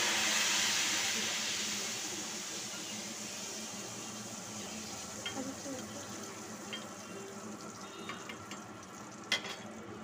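Banana chips frying in hot oil erupt in a loud hissing sizzle as a salt-water mixture is poured in, the burst slowly easing into a steady crackle with a few small clinks near the end.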